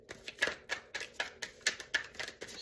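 Tarot cards are shuffled by hand in a quick, rhythmic run of about ten crisp, papery clicks and slaps, close and clear with no talking.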